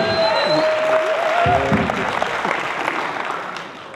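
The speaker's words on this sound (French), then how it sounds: "faire un tonnerre d'applaudissements pour Monsieur Roland Foucault" A loud, thunderous round of applause fills a congress hall in Brazzaville for a conference speaker, continuous clapping from a large audience with a few voices and cheers briefly poking through before it gradually eases.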